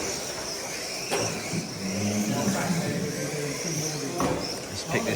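Racing cars lapping a track at speed, a steady engine-like whir with passing surges and a sharp burst near the end, heard under people talking.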